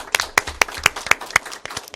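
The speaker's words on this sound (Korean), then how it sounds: "이 모두를 위한 우리가 격려와 감사를 담아서 박수 치는 거로 오늘 얘기를 모두 마치도록 하겠습니다" An audience applauds at the close of a panel discussion, sharp claps arriving in a fast, fairly even rhythm, close and clear with no voices over them.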